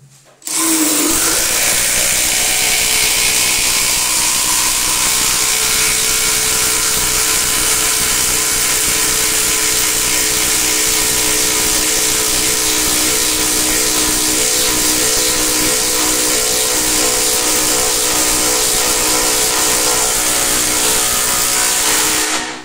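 A Makita DTD172 impact driver drives a 10x220 mm screw in one long, loud, close run of roughly twenty seconds, a harsh continuous whirring rattle that starts abruptly and stops abruptly.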